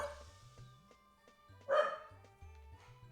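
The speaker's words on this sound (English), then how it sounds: "So here's the worst part about Leia barking is I think Leia has selective hearing" A dog barks repeatedly nearby, with several sharp barks and yips in an irregular rhythm and one louder bark about midway, over a low background hum, with no talking.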